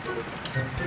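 Steady rain falling and pattering on a surface outdoors, a continuous dense hiss with faint low thumps, heard alone and at close range.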